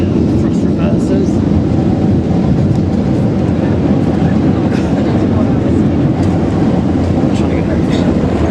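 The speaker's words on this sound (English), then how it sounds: "Thrust reverser opening." Boeing 747 engines roar loudly and steadily as the thrust reversers open on landing, a dense broadband rumble throughout with faint voices underneath.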